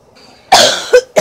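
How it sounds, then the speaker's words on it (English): Three sharp coughs from a cough lasting several days, one long harsh burst followed by two shorter ones, close and loud with no talking. "I've had this cough for days."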